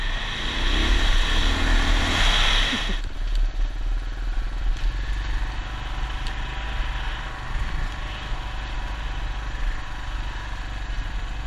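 A Kawasaki KLR650 motorcycle on a gravel road, its engine droning loud and close, swelling at first and then settling into a steady rumble under wind noise.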